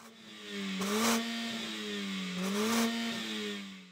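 Mercedes-AMG CLA 45 S engine revved twice while parked beside rival cars, each blip rising sharply to a loud peak and easing back, close and prominent with no talk.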